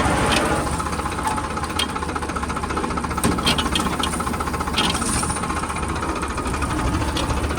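A Farmtrac 60 PowerMaxx tractor pulls a loaded 16-inch plough through a field, its engine a loud, steady, knocking diesel rumble with rattling clatter throughout.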